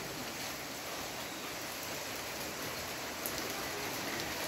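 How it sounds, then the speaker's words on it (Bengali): Steady, dense monsoon rainfall pours down without pause in Kurigram, Bangladesh, a continuous hiss of drops on surfaces, moderately loud and unbroken. "কিন্তু বৃষ্টি চলছেই"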